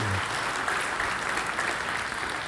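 Steady applause from a church congregation, a dense wash of many hands clapping continuously throughout.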